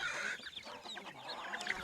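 Chickens cluck continuously at a livestock operation that raises pigs and chickens, a busy overlapping chorus of short calls at moderate distance with no voices.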